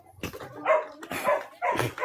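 A dog barks three times close by, each a loud, harsh, drawn-out bark separated by short pauses, heard alone in an indoor debate setting.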